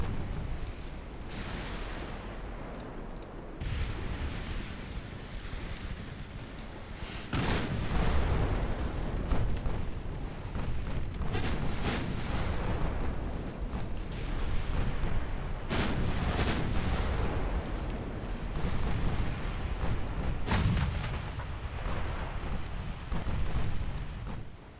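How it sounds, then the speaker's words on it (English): Heavy booming blasts and explosive impacts from a naval warship battle game, with a torpedo hit among repeated loud, reverberant detonations over a continuous rumbling backdrop, no voices. "torpedo hit"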